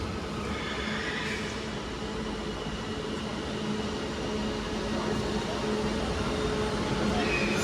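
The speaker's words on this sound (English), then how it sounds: "got a Northern 331 terminating from Manchester Piccadilly" A Northern class 331 electric train arriving at Stoke-on-Trent station, a steady rolling rumble and hum with a high squeal of brakes rising and fading, heard from the platform.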